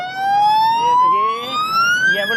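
Ambulance-style siren device fitted beneath a motorcycle, wailing loudly and steadily with a rising electronic tone, close by; faint voices murmur underneath.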